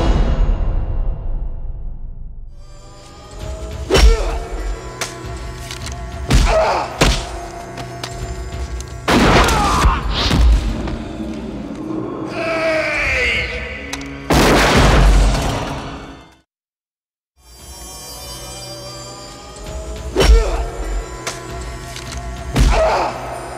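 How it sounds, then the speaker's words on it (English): Shotgun blasts and other gunfire in a scene from the action film Hard Target: a long run of loud, sharp bangs, booms and thuds, with a brief silence before the volley resumes. "the last henchman is killed with a shotgun blast."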